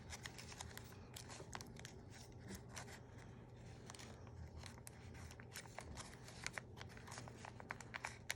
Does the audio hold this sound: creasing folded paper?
yes